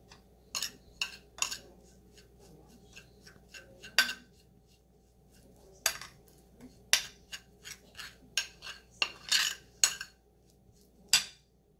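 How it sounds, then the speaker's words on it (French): A spoon clinks against a bowl while stirring a turmeric face mask mixed with lemon juice, producing sparse, irregular taps and scrapes, quiet and close, with no talking. "On mélange le tout."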